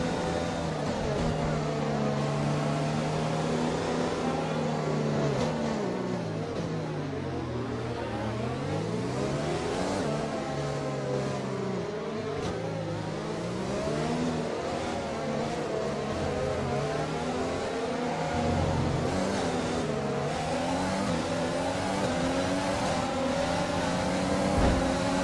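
A pack of Formula 1 cars in the F1 2020 racing game accelerates at the Japan circuit after a safety car period, many engines whining and rising in pitch together in a loud, continuous, overlapping roar.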